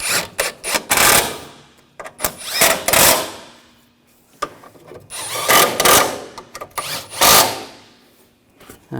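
Power tool driving bolts on a 2007–2013 BMW X5 coolant fan assembly, short loud whirring bursts in several clustered groups separated by quiet pauses, close up.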